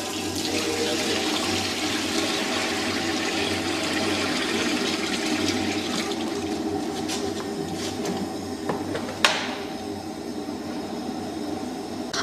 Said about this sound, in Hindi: अभी हम पानी डालेंगे